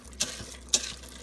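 Pasta stirred into chili in an Instant Pot: two quick scraping strokes of a spoon through the thick mixture, close and fairly soft, with no talking.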